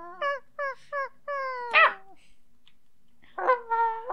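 A person imitates a dog with a run of high-pitched yips and whimpers, several short nasal yelps in a rhythmic series, then a longer whine after a pause, close and fairly loud.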